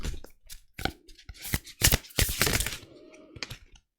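Tarot cards being shuffled by hand, a run of crisp riffling flutters and soft slaps close up, with short pauses between bursts and no voice.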